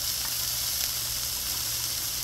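Chopped shallots sizzling on a hot Blackstone griddle, a steady bright hiss with faint crackle, continuous and close, no voices.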